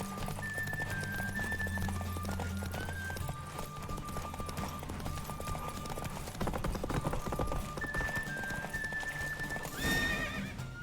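Roach, Geralt's horse in The Witcher 3, gallops with a steady, close drumming of hooves on open ground, punctuated by a neigh and whinny toward the end over ambient game sound.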